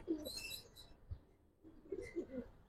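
A pair of Jabra Giribaz pigeons at a seller's place coos in two soft, low, throaty bursts separated by a short pause, faint and close, with background hiss.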